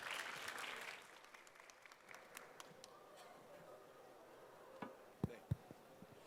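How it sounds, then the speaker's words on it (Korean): Audience applause at the opening session of the COMEUP 2023 startup conference: brief, fairly faint clapping from a crowd that fades within a second or two, followed by a few scattered claps and taps in a quiet room. "여러분 큰 박수 부탁드립니다"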